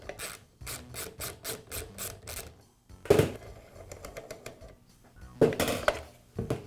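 The magazine comes off a Max roofing nailer under repair, with a run of rapid close metallic scraping and rasping strokes, then louder clanking slides and rattles of metal parts being pulled free.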